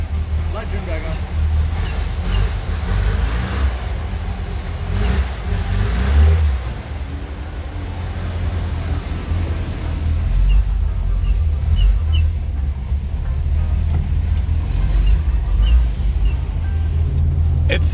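Engine of a 1969 VW Bus running, a steady low rumble that holds throughout, close by, with voices talking over it.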